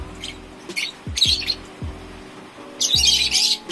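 Caged African lovebirds give a run of sharp, close chirps and squawks, with a steady background tone from the room beneath them and no talk.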